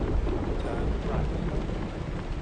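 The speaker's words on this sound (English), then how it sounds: "that was a very nice thunder sound" A low rumbling thunder roll rises during steady rain in the truck-driving game Euro Truck Simulator 2, a deep continuous growl under the hiss of rainfall.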